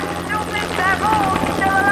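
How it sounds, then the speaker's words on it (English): Helicopter in the VR game Crisis on the Planet of the Apes, a loud steady rotor drone with a whining engine tone, close and continuous. "nope, bad helicopter"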